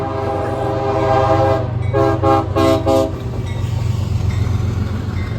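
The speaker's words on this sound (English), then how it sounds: "Great train." A freight train rumbles past with heritage unit locomotives and a brand new GEVO in Palmetto, Georgia. Its horn sounds a long blast, then a string of shorter toots, over a constant close rolling roar.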